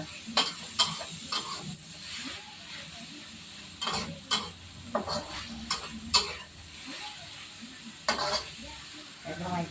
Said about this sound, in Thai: ผัดให้สุกนิดนึงจะได้ไม่ขาว